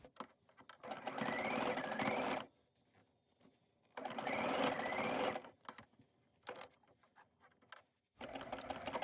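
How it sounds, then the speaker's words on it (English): A sewing machine stitches tiny scrap fabric strips in three loud, steady bursts, each lasting one to two seconds, separated by quiet gaps as it back stitches to lock the seam. "Make sure you do a back stitch. So I'm doing that right here. Back stitch again."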